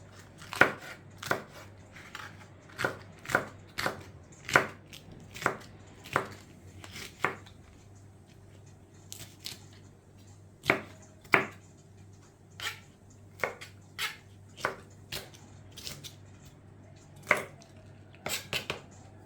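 Knife chopping seeded peppers on a board for canned menemen in uneven bursts of sharp taps, close and clear, with short pauses between runs of cuts.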